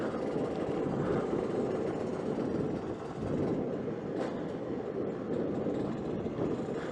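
A Yamaha DT 125 enduro motorcycle runs at low RPM in fourth or third gear on a cold day, a steady, even engine drone heard from on board with rushing road and wind noise.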